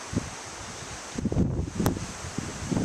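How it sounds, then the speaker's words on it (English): Wind gusts through trees at an elevated wilderness campsite on a canoe trip, a steady broadband rush with leaves rustling and brief louder swells, no voices. "The wind's picking up even more so."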